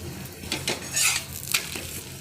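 Beetroot paratha roasting with oil on a pan, heard as soft sizzling with a few close metallic scrapes and taps of a utensil against the pan, fairly quiet and without speech.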